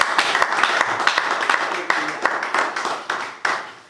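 A church congregation applauds during a French-language worship service, with several seconds of steady, dense clapping and sharp accented claps rising above the crowd's patter.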